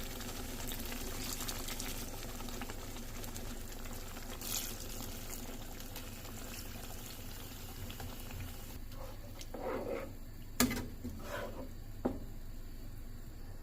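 Water is poured into a pan of chicken masala curry, giving a soft trickle over a bubbling, simmering background, with a few brief clatters near the end.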